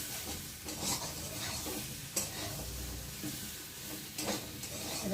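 Spiced potato curry being stirred in an oily pan, with scraping and clinking of a spoon against metal over a constant low sizzle, plus a few sharper knocks.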